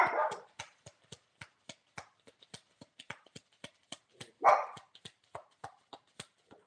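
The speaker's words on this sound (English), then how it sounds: "Can you guys hear the dogs? Because they're going off." Dogs bark again and again in a fast, steady rhythm, moderately loud and somewhat distant, with no talk over them.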